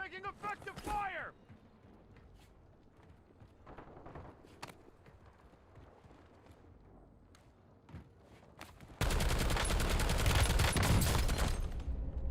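Video game shooter gunfire comes in scattered single shots and bursts, then erupts into loud sustained automatic fire near the end, with a voice talking over parts of it.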